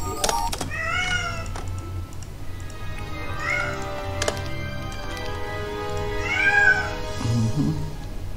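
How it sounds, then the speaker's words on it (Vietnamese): A cat meows several times in a room, with harmonic calls spaced across the stretch and a steady low hum of background noise underneath. "Mèo à anh?"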